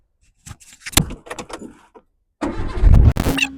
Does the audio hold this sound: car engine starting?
yes